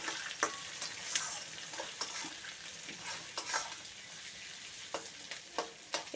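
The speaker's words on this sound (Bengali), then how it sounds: "এর মধ্যে দেখো কাঁচা লঙ্কা আর পেঁয়াজ আছে দিয়ে দেবো এবার ভালোভাবে নেড়ে নেব আমরা" Onions and green chilies with bay leaf, dried red chili and cumin sizzle quietly in a pan while a utensil scrapes and taps in irregular clicks, steady low frying throughout without speech.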